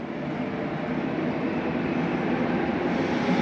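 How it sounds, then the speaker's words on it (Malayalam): A deep continuous rumble swells slightly as a train rolls in on an upper level of a multi-level station in Belgium, a steady broad roar with no voices. "ഇപ്പോൾ മുകളിലൊരു ട്രെയിൻ വന്നിട്ടുണ്ട്."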